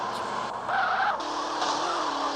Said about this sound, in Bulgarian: Много ма кефи звука на кола.